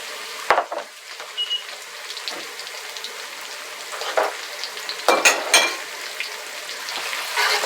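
Shallots hit a hot wok for a beef and tatsoi stir fry, giving a steady crackling sizzle with a few sharp scrapes and clatters of stirring, close up and without talk.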